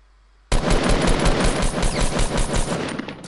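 Rapid automatic gunfire in the Fortnite video game bursts in after a brief quiet moment and continues as loud, dense rattling volleys to the end.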